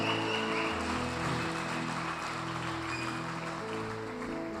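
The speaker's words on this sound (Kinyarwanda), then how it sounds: "reka tubakomera amashyi" A church congregation claps steadily during worship, a soft continuous patter under sustained organ or keyboard chords, with no talking.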